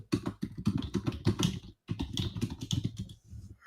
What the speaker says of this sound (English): I'm typing in.